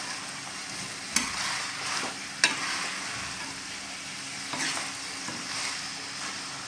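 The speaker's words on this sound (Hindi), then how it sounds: "ये हमें भुनाई करते हुए 3 से 4 मिनट हो चुके हैं।" Chicken pieces for a desi murgh salan stir-fried (bhuna) in a pan, giving a steady close sizzle broken by a few sharp scraping clicks of the spoon, with no talking.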